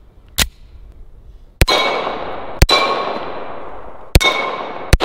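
Shots from a 1911 .45 ACP pistol strike a Texas Star steel target: four sharp reports, close and loud, most followed by a bright ringing clang from the steel plates that fades over about a second.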